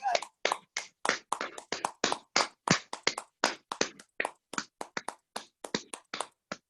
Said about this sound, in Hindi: एक बार जोरदार तालियां होनी चाहिए दोस्तों